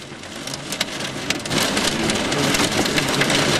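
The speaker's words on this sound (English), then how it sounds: "Hail's hitting me!" Hail and heavy rain pelt the surroundings during a tornado storm on the Great Plains, a dense loud rattle of rapid impacts that intensifies partway through.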